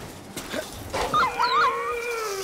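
A dog in the video game Far Cry 5 gives short yips, then a rising, wavering howl that fades into whimpering, close and clear against light background noise.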